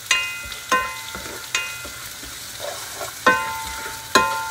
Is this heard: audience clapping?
no